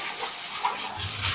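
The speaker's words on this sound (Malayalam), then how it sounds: "വെള്ളം ഒഴിച്ച് കഴുകണം" Water splashes into a vessel for washing in a home kitchen. It is a short, close, steady gush with one brief splash near the middle, and no talking.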